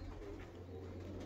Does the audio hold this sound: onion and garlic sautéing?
no